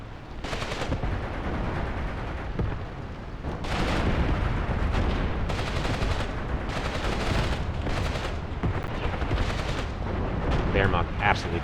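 Artillery strikes in the Graviteam Tactics war game, a dense, continuous roar of booming blasts and rattling gunfire with repeated heavy impacts, loud and close, no talk.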